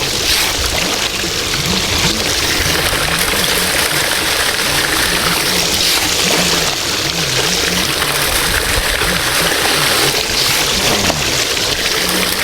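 Water pumped over sand pours steadily down a gold-prospecting sluice, a loud continuous rushing trickle with a low pump drone beneath it, running unbroken throughout.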